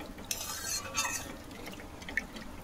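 Water poured into a bowl of chicken momo filling: a close, soft splashing and liquid swirl with a couple of light clinks against the bowl, brief and moderately loud.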